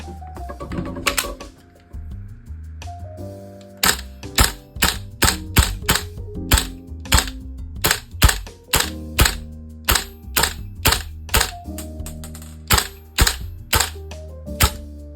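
A VFC HK416C gas blowback airsoft rifle fires a 20-round magazine in loud, close single shots, slow at first and then quicker and more regular, each crack sharp and mechanical, with no talk.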